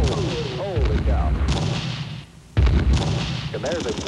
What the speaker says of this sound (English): That was a large airburst.